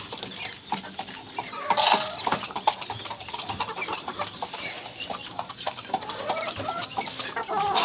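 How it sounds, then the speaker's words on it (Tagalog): Roosters at a small backyard poultry yard cluck at feeding time, a busy stream of close, clipped clucks and scratchy calls with a louder burst near the start, steady and unbroken by talk. "mga tandang."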